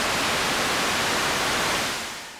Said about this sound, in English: It's a mix of all possible frequencies at once.